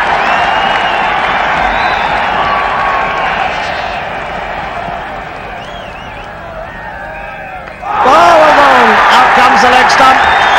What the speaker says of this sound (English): Crowd are going absolutely mad, the Indian camp over on the far side